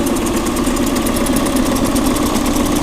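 A new 2024 Tohatsu 20hp outboard motor idles steadily and loudly up close, a continuous even engine drone with a faint rhythmic pulse throughout and no talking.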